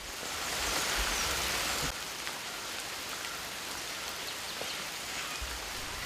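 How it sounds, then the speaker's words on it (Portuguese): Heavy tropical rain pours down steadily in the Amazon, a dense, even hiss that stays loud throughout without a break. "Estamos debaixo de uma típica chuva tropical."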